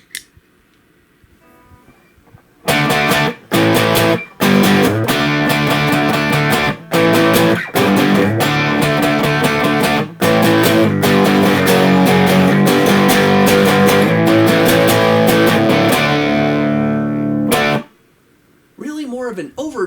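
Electric guitar played through an MXR Dookie Drive overdrive pedal with the blend set fully left, giving a low-gain overdriven tone; loud strummed chords and riffs run steadily for about fifteen seconds with brief gaps, then stop.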